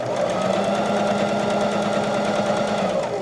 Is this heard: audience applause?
no